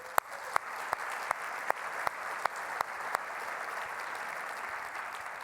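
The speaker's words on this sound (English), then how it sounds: "I think they deserve a round of applause." An audience at a university association's annual meeting welcome session gives a faint round of applause, a soft wash of clapping with a few sharper individual claps standing out at a steady pace.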